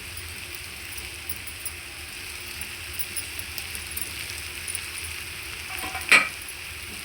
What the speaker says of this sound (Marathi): परत हलवून घ्यायचं चांगलं